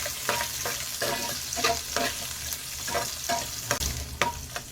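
Coconut and chopped onion sautéing in oil for coriander chutney, a continuous close sizzle broken by regular scraping strokes of a spatula against the pan.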